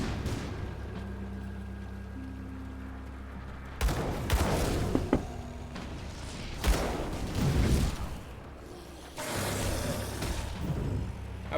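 Canister bomb ability in the Grim Dawn action game going off in several sharp, booming blasts after a quieter humming stretch, with crackling debris trailing each burst; no talking.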